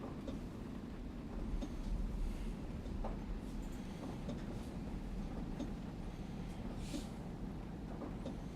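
A Virgin Class 221 train runs on the North Wales coast line in a train simulator game, a steady low rumble with faint rhythmic rail clicks, quiet and continuous with no talk.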